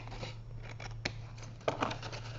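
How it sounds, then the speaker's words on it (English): Large scissors snip through material near at hand, giving a couple of sharp cutting clicks over a soft rustle and a low background hum, crafting a milk carton. "I'll grab my big scissors, and I'll just trim that off right there on the side."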